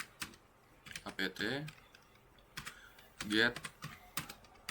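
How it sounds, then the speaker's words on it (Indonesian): Keys tapped on a computer keyboard while a terminal command is entered in Ubuntu, short bursts of clicks spread across the clip, with a person speaking over part of it. "Kita hanya perlu mengetik sudo"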